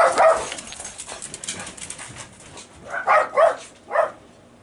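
A dog barks in a few short, sharp bursts, one at the start and a quick cluster of three near the end, fairly close, with quieter sounds in between.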